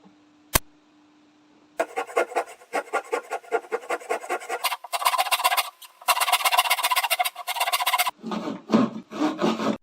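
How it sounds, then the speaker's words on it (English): Handsaw cutting through a wooden IKEA Kallax shelf board along a clamped guide, a rapid rasping back-and-forth of many even strokes, close and loud, after a single sharp knock at the start. "Leave 1 inch, do not saw through."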